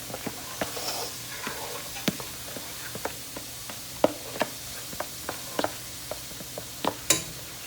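Lasagna ingredients being mixed in a bowl, a steady series of sharp scraping and tapping clicks from a utensil, close and moderately loud, repeating at an irregular rhythm.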